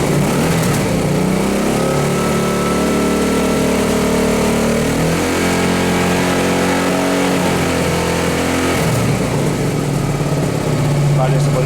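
Hyosung GT 650 R (Comet) motorcycle engine idling steadily up close, a continuous low rumble with a brief rise in pitch partway through, and a voice talking over it.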